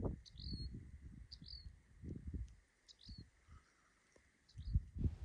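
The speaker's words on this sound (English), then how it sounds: "while listening to a beautiful bird" A bird sings in the scenic backcountry of Big Bend, four short rising whistled phrases repeated at steady intervals, faint and distant over low rumbling wind noise.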